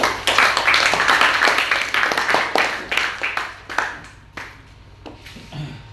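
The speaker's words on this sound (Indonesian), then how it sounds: "Aplaus untuk kita semua." Applause from a classroom audience after a student presentation at a madrasah, loud at first and then thinning into scattered claps that fade out over several seconds.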